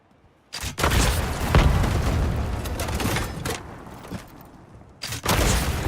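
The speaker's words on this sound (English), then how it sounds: "Point that rocket and wipe them out." A rocket explodes against grey stone walls inside a building in the Highguard video game: a loud, booming blast with a long rumbling roar, then a second heavy burst near the end. No voices.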